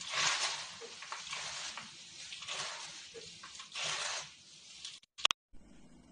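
Masala powder being stirred through a dry poha (flattened rice) mixture: close, repeated scraping and rustling strokes in an uneven rhythm, with a brief dropout near the end and no talking.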